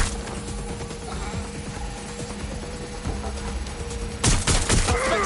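Gunfire in Watch Dogs: Legion: a scatter of sharp shots over a steady mechanical hum, with a louder cluster of close reports near the end. Voices talk faintly underneath.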